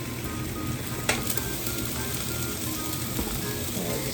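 Beef browns in a pot for stock, sizzling and crackling steadily at close range with a brief clatter of stirring partway through and no talking.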